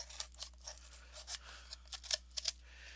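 Scissors snipping through a cardboard toilet paper roll, a quick run of short crisp cuts close by with a steady low hum underneath, no talking.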